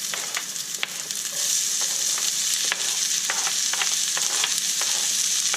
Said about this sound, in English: So now is the time that you're going to add your onion and your garlic.